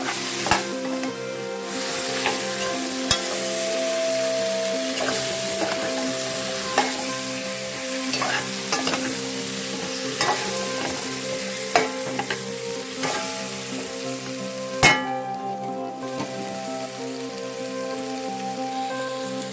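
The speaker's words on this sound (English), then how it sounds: "Stir them around. Coat them in the curry mixture." Potatoes coated in curry mixture for curry aloo fry in a pan with a steady, dense sizzle, broken by occasional scraping stirs and a sharper clatter near the end. No one speaks.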